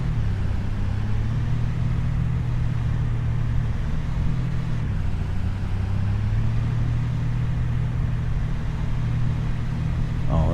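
A tractor engine drives steadily in Farming Simulator 25, a constant low droning hum at even speed with a slight dip in pitch midway, no voices over it.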